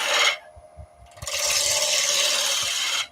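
The tip of a skew chisel cuts wood spinning on a lathe for a bar table part, making a loud, steady rasping scrape that breaks off briefly and then resumes, with no voices.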